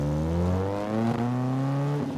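Sports car exhaust note, Lotus Elise or Alfa Romeo 4C, droning steadily at close range with a slight rise in pitch as the engine pulls, no voices over it.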